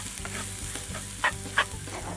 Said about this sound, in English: I'm going to stir this up just to get it coated a little bit with the vegetables and the oil